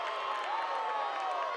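Softball crowd at Andy Moore Field on senior day, Wisconsin at Indiana, reacting to a pitch with a steady murmur of voices and groans, a brief uniform swell without sharp claps.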